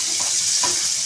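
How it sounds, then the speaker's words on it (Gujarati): A ladle stirs desi bitter gourd curry in a hot pan, two soft scraping strokes over a steady background sizzle, close and fairly quiet with no voices. "તેને હવે ચમચા વડે અને હલાવી દેવાનું છે, મિક્સ કરી દેશે"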